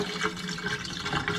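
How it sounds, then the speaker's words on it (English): Rinse water poured off two cups of rice being washed in a pot in a home kitchen, a steady close splashing, trickling pour lasting the whole short moment with no talk. "Pour the water off."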